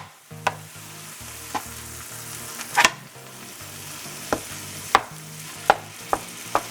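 Ground beef for empanada filling sizzling in a pan, a steady fry hiss with a low hum beneath, broken by a series of sharp scrapes and taps as the meat is stirred, no voices.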